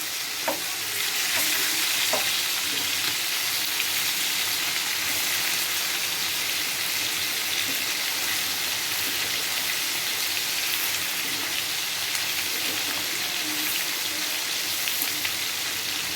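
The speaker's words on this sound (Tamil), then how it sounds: "ரெண்டு சைடுமே நல்லா வேகட்டும்" Chicken pieces fry in a pan, turned so both sides cook, making a dense, continuous loud sizzle like heavy rain that runs evenly throughout, close up and with no talk.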